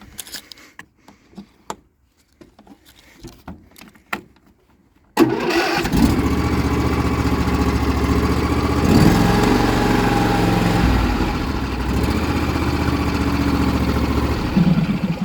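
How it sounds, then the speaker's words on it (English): A 22-horsepower John Deere L110 lawn tractor with 579 hours cranks from cold, then its engine catches abruptly and settles into a loud, steady idle, after a few quieter clicks and knocks. "Here, give it a nice little cold start for you."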